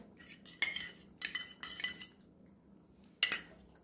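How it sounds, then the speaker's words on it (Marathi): A spoon beats milk cream (malai) in a bowl, giving a few quiet, separate bursts of metal clinking and scraping against the dish with short pauses between them. "आपण ही दुधावरची साई घेतलेली आहे ते फेटून घेणार आहोत"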